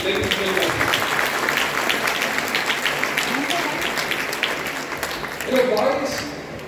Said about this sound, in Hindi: तो जोरदार तालियां सभी के लिए प्लीज।